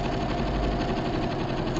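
A sewing machine zigzag-stitches fabric scraps together for a crazy patch basket, giving a steady fast mechanical whir with rapid needle pulsing, close and continuous with no talk.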